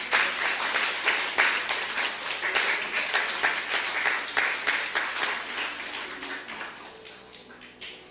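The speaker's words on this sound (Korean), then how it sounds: "박수 한번 쳐주세요." A church congregation claps in rhythmic unison, sharp regular beats repeating steadily for several seconds and gradually softening toward the end.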